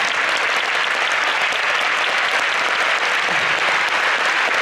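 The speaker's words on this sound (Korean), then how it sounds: "다시 한번 큰 박수 부탁드리겠습니다" A large concert audience in a Seoul venue applauds loudly and continuously, a dense, even roar of clapping from many hands with no pauses.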